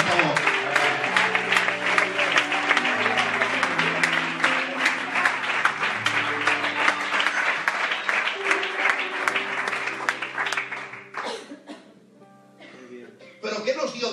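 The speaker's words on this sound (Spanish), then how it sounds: "Ese aplauso para Dios, por favor." A church congregation applauds for God with steady, dense clapping that carries on for over ten seconds, sustained keyboard-like music tones underneath, before thinning out into a few scattered claps.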